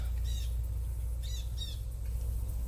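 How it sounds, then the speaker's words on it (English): A bird in a mid-August garden calls loudly, giving three sharp squawking chirps, one early and two in close succession, over a low steady background rumble. "the bird is just going crazy"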